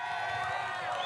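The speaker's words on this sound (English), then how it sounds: "have a round of applause for the driver finishing in third, Miles Rowe today." Crowd applause at an auto race in Portland for the driver finishing third, a steady dense wash of clapping and cheering held for about a second, with a voice faintly mixed in.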